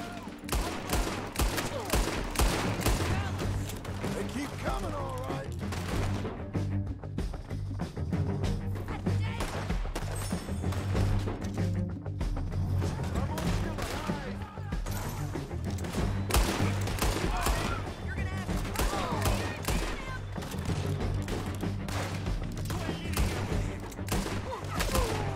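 Rapid, dense gunfire from the Western action game Red Dead Redemption 2 during a bounty hunting shootout, continuous volleys of shots crackling almost without pause over dramatic music for the whole stretch, loud and close.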